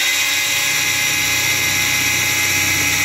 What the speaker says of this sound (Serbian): Vidimo kako će slušati ovu 3 mm kutiju sa lopnicom burgijom, za metal naravno.